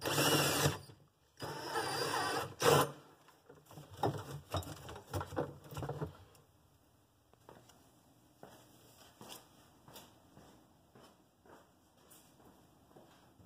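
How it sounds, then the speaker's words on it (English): A drill bit bores through a body panel layer on a 2016 Polaris Ranger 900 XP, with loud close buzzing bursts early on, then a series of shorter, fainter drilling pulses. "I'm just going to run the drill bit through the last layer underneath there."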